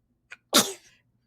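A single sharp sneeze up close, preceded by a short quick intake of breath, then silence.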